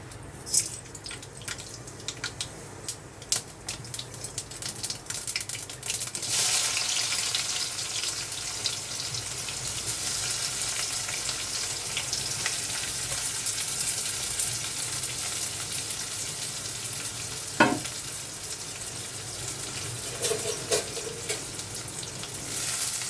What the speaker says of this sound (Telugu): ఉల్లిపాయలు వేగాలి.